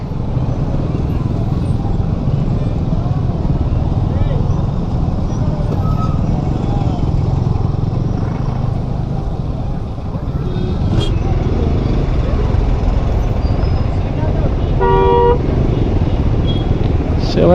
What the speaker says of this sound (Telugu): ఎంత ట్రాఫిక్ ఉంది ఇక్కడ